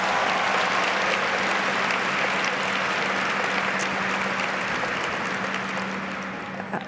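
A conference audience applauds the event team, dense steady clapping from a large crowd that holds loud for several seconds before starting to thin out at the end.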